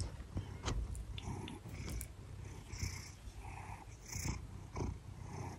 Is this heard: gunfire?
no